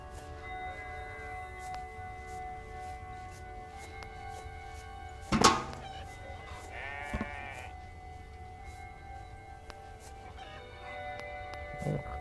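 A single wavering goat bleat in a video game rises from quiet ambient background, with a sharp thump shortly before and faint chirps around it.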